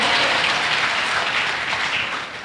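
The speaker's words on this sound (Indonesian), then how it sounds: "Tepuk tangan dulu untuk Handri." Steady applause from an audience at a motivational talk fills the whole moment, dense and continuous, with no voices over it.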